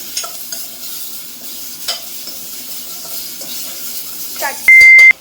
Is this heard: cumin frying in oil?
yes